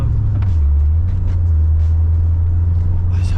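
Chevrolet Corvette C4 engine giving a steady, loud low rumble under gentle acceleration in traffic, a continuous drone with no speech.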